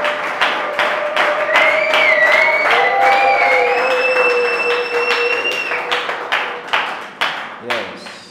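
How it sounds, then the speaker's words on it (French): A church congregation claps in a steady rhythm while sung voices ring out over the beat, loud and full, with the clapping slowing into separate claps near the end. "Acclame pour le Seigneur, acclame pour le Seigneur"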